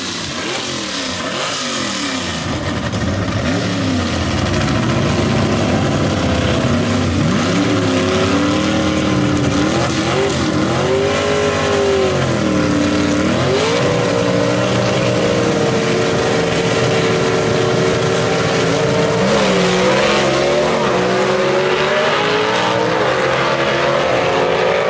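A 1962 Chevy II wagon gasser and a 1955 Chevy gasser race at Gulfport Dragway, loud engines roaring and revving continuously with shifting pitch sweeps as they run down the strip, no voices over the din.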